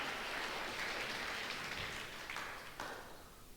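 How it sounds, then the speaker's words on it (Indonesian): A church congregation claps for God during a sermon, a dense wash of applause that holds steady and then thins out toward the end. "Saudara dengan saya, tepuk tangan dulu bagi Tuhan"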